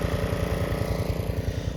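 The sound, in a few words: Swisher pull-behind rough cut mower mowing a horse pasture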